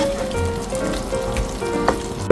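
Soba noodles and ingredients with dashi sizzle and fry steadily in a frying pan over the flame, a close, continuous crackle with small pops and a faint stir near the end.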